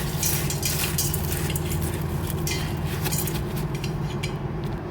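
A spoon stirs fried onion in a cooking pot, scraping and clinking against the metal in an irregular close rhythm over a steady sizzle, with no talking.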